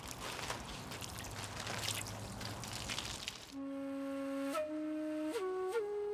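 Water pours over a stone sculpture in a steady trickling splash for about three seconds, then gives way to sustained tonal music.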